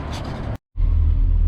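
A 1966 Ford Mustang coupe rumbles close by with a low, steady engine drone, broken by a brief moment of silence before the loud rumble resumes.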